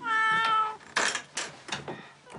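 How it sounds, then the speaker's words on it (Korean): Several cats meowing close by, high harmonic cries in quick succession, one long drawn-out mew followed by shorter overlapping calls in a Japanese home crowded with more than ten cats. "딱 봐도 10마리가 넘는 고양이들"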